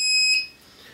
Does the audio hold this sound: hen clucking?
no